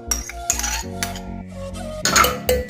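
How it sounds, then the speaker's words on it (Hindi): Fresh homemade cream and yogurt are spooned into a mixer jar, giving a quick series of close metallic clinks and scrapes of a spoon against the steel jar, irregular and fairly quiet. "सबसे पहले हम मिक्सी में मलाई डालेंगे, जो हमने घर की फ्रेश मलाई निकाली है।"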